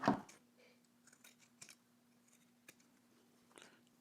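Scissors trimming a sewn fabric seam on a pants project, a handful of soft, quick snips spaced irregularly, close and quiet against a faint steady hum, with no speech.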